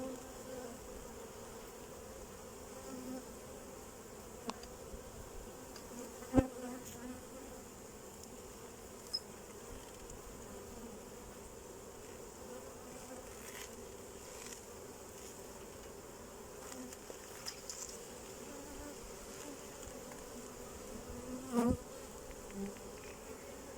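Honeybees buzz around an open beehive in a steady, close drone, with a few faint clicks and knocks scattered through it.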